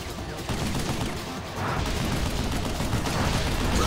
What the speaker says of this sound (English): Somebody was shooting at us from behind.